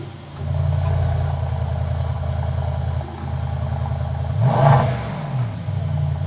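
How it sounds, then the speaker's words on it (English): A Mercedes E63S Estate starts up, idles with a deep, rumbling V8 burble, then gets a sharp, loud rev in the middle before settling back to a steady idle; recorded close by with no talking. "let's fire it up and we'll go for a drive."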